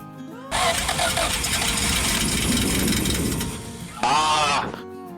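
A light aircraft engine cranks continuously for several seconds without catching in cold weather without priming, then stops; a brief harsh honking noise follows before it falls quiet.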